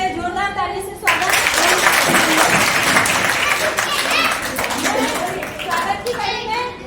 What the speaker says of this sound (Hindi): इनके लिए जोरदार ताली से स्वागत